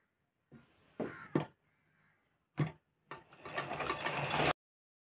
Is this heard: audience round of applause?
no